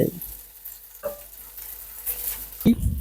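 Kal meen fish fries on a hot dosa griddle with coriander stalks, giving a soft, steady sizzle. Short scraping and stirring clatters break in near the start and again near the end.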